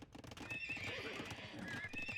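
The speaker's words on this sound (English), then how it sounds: "Charles' horse is getting walled in by FireFrog here." A horse in the strategy game Age of Empires neighs with a long shrill whinny over a busy bed of clip-clopping hooves and battle noise, heard twice at moderate level.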